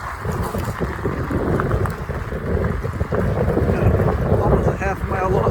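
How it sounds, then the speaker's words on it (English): Strong wind buffets the microphone while riding a fat-tire e-bike outdoors, gusty roaring rumble rising and falling throughout, with someone speaking now and then over it. "Oh, it's pretty windy out here."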